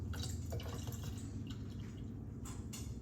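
White cranberry juice poured from a heavy bottle into a glass for a drink, a quiet trickling and splashing stream with a few drips, faint and close, no talking.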